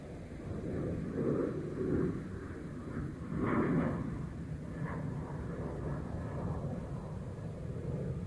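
A Turkish Airlines A321 at Dublin Airport rumbles steadily at moderate distance, a broad continuous roar that swells slightly a couple of times.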